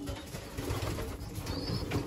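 Racing pigeons cooing in their loft while feeding their young, with soft, low, throaty coos repeating close by over a faint rustling background.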